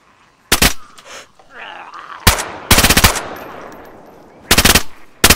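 Loud, close bursts of automatic machine gun fire from a video game, several short rapid volleys separated by gaps and quieter ambient sounds.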